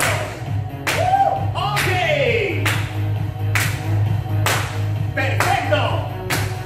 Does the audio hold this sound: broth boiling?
no